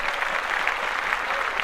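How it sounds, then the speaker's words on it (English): Brief burst of applause during a podcast, a dense even patter of clapping held steady throughout the short stretch. "let's clap that up"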